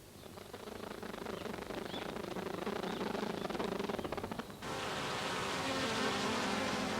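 A honeybee colony buzzing inside a hollow tree hive early in the morning, a dense, continuous hum of many bees, steady and close, with the texture shifting abruptly partway through.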